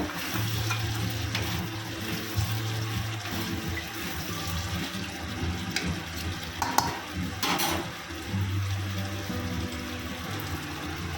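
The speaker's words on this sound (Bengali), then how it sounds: "টমেটোটা দিয়ে দেব একটু নেড়ে চেড়ে নেবো" Cabbage and tomatoes are stirred in a frying pan for a vegetarian cabbage curry, giving a steady close sizzle with scraping stir strokes and a few wet clatters throughout, and no voices.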